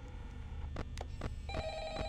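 A telephone rings in a video game, sounding as a few bright, short electronic trills over a low, muffled background, quiet and somewhat distant.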